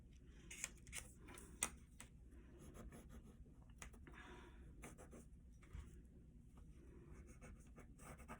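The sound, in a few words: tracing a maple leaf outline onto paper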